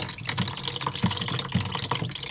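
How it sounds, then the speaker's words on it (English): Dehumidifier water being poured back into a pan, with splashing and gurgling in short uneven bursts. Close and clear, no talking. "and just dump the water back in the pan."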